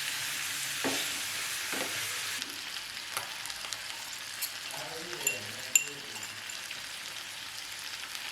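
Local chicken frying in a pan makes a quiet, steady sizzle close by, with a few soft clinks and stirring scrapes.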